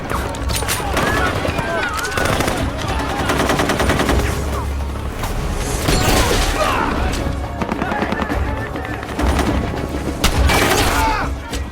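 Gunfire in a war scene from a sniper film: dense, loud rapid bursts and single shots crackle continuously, mixed with booms and shouting voices throughout.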